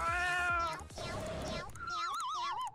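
Cartoonish cat meows from the video game Raise a Floppa 2, a string of loud, warbling meows at close range, with a person talking over them.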